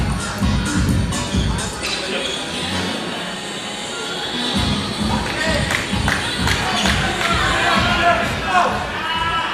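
A crowd at a racquetball semifinal of the 2006 US Open roars and cheers, a loud, sustained wash of voices and shouting, with the ball and players' shoes faintly audible beneath it.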